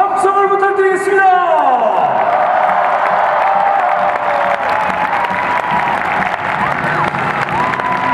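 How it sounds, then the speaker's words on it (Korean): Stadium crowd at a Daegu FC footballer's retirement ceremony breaking into loud, sustained applause and cheering, rising as a tonal sound fades in the opening seconds, then a dense roar of clapping and shouts that holds to the end. "아낌없는 박수와 함성을 부탁드리겠습니다"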